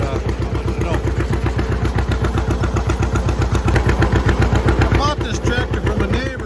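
An old tractor engine chugs steadily and loudly in a fast, even pulse while making hay. Someone talks over it throughout.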